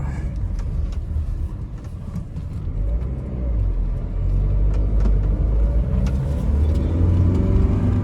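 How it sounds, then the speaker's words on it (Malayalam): A Nissan Sunny with a lower-arm fault that pulls to one side rolls along on a test drive, its engine and road rumble steady and close, swelling louder partway through. "ഇനി നമുക്കൊന്ന് വണ്ടി ഒന്ന് ഓടിച്ച് നോക്കാം"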